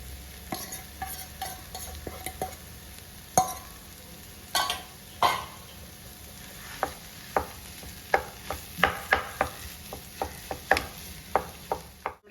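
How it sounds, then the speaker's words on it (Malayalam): Boiled potatoes being stirred and mashed into a spiced masala in a pan for vada pav: repeated scraping, clacking strokes of a spoon against the pan, irregular and close, over a faint sizzle. "ഇളക്കുന്നതിനോടൊപ്പം തന്നെ നമുക്ക് ഇതിനകത്തേക്ക് ഉരുളൻകിഴങ്ങ് വേവിച്ച് വെച്ചതും കൂടെ ചേർത്ത് കൊടുക്കാം."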